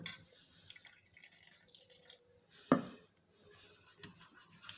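Water trickled a little at a time into cornflour batter for paneer pasanda, giving faint, scattered drips and light splashes with one sharper splash partway through, and no voices.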